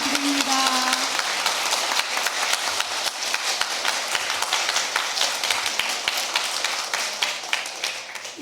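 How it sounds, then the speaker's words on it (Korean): Congregation clapping in thanks at a church's 35th anniversary service, a moderate crowd of hands clapping steadily and fairly close, slightly uneven, fading a little at the very end. "다시 한번 우리 감사의 박수 보내드립니다"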